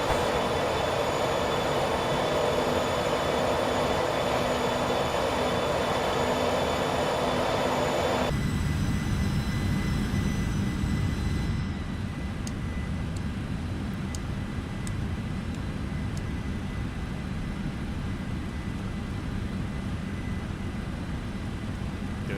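Roaring engines of an MD-11 airliner during takeoff in a flight simulator game, a loud continuous broadband rush that drops in intensity partway through and settles into a steadier, quieter drone.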